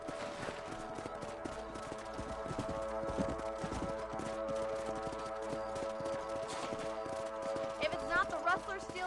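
Horses trotting in the Red Dead Redemption video game, a steady rhythmic clip-clop of hooves over about nine seconds, with a musical drone and game ambience underneath.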